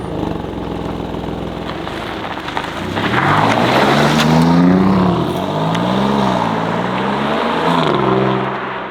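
A 2025 Alfa Romeo Giulia Quadrifoglio engine idles with a burbling rumble, then revs hard and climbs in pitch, settling and flaring again, close and loud, in manual race mode.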